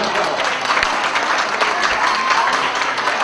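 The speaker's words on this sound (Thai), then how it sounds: "ขอพวกเราแลกปรบมือเพื่อขอบคุณท่านประธานครับ" Applause at a swimming competition ceremony, given to thank the chairman: dense, continuous clapping from a crowd, fairly loud and unbroken from start to finish.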